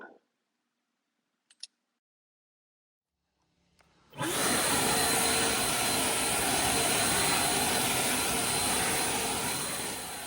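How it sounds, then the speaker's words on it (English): An Ego LBPX8006 commercial battery backpack leaf blower starts up after a few seconds of near silence with small clicks, then roars loudly and steadily close by as it blows leaves, with no talking. "I'm going to let you see a lot of the leaf blowing"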